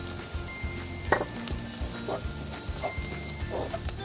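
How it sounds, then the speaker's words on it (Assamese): Gram flour frying with spices in a pan over a gas flame makes a soft, steady sizzle, with occasional light scrapes and clinks from stirring close by. "বেচনখিনি মই ইয়াত মছলাৰ লগত ভাজি ল'ম"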